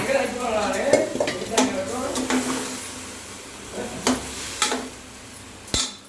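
Rice and moong dal tipped into a pot for kichidi and stirred, with a light patter, spoon scrapes and clinks against the pot over a faint sizzle.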